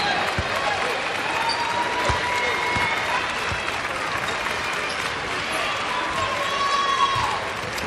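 Basketball crowd at a Rider men's college game in Massachusetts applauding departing seniors, a broad, steady wash of clapping and crowd noise running throughout, with a few thuds and a commentator's voice over it.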